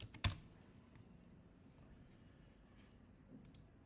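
Light taps on a computer keyboard in a quiet room, with one sharp click at the start and a few faint keystrokes after it.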